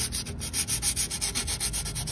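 Glazing is sanded off the brake shoes of a Renault Sandero with abrasive paper in a steady series of rapid back-and-forth rasping strokes, close and loud, with no talking.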